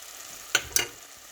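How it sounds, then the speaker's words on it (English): Sauce seasoned with maggi, white pepper and thyme is stirred in a pan, giving two brief scraping clicks of the spoon over a soft background sizzle. "And I'll continue stirring."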